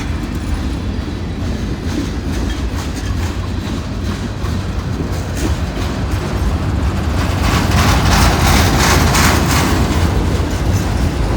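A mixed freight train hauled by six locomotives rolls past in the snow, a loud, close, continuous rumble with rhythmic clickety-clack of wheels that grows heavier toward the end.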